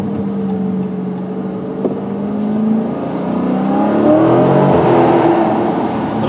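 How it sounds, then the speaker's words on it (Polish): A Dodge Challenger R/T with a 6.4-litre SRT V8 accelerates, its engine note rising from a low rumble to a loud, climbing roar as revs build over several seconds. "Uważać z wciśnięciem pedału gazu, bo jednak silnik"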